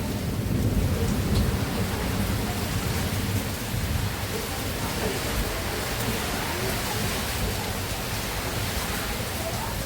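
Heavy rain during a thunderstorm in Bangalore, first summer rain of March: a loud, dense, unbroken roar of downpour with deep rumbling thunder beneath, close and steady throughout.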